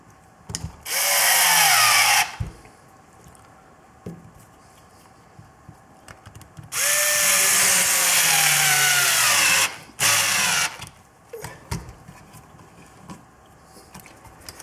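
A power drill bores a hole through a piece of scrap aluminum, in two loud bursts: about a second and a half of whining, then a longer run of around three seconds. A brief third burst follows, with quieter workshop clatter between them.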